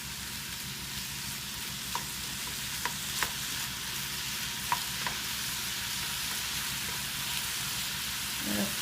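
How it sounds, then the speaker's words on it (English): Ground meat for a gluten- and dairy-free sloppy joe sizzles steadily in a pan, a close, even hiss with a few faint clicks of stirring over it and no talking. "you can hear it start to sizzle a little bit."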